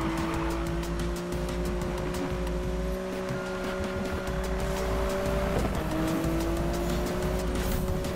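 Race car engine in the video game Need for Speed (2015), a steady droning whine with shifting pitch that holds loud and continuous, accompanied by faint tire and road noise and no talking.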